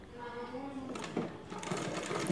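A sewing machine stitches thick cloth for newborn diaper pads; after a person speaks briefly, the close, rapid, rattling run of the needle starts and continues to the end.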